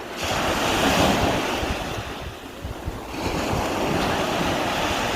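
Ocean surf at Delray Beach rolls and breaks continuously, a steady broadband wash with wind noise buffeting the microphone, loud and close throughout with no voices.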